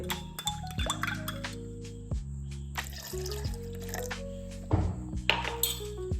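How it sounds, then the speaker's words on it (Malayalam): Half a cup of milk is poured into banana kaipola batter with cardamom, a soft close trickle of liquid with drips and wet squishes over a steady tonal background hum. "ഇനി നമ്മൾ ഇടുന്നത് ഒരു 1/2 കപ്പ് പാലൊഴിക്കണം"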